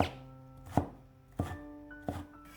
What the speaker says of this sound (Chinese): 先将西红柿切成厚一点的薄片， 再改刀切成粗条，最后切成小丁。